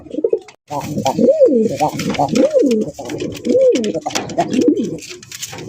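A pair of large Army Chila pigeons coo in repeated rolling, throaty calls close by, several phrases in a row while someone talks over them.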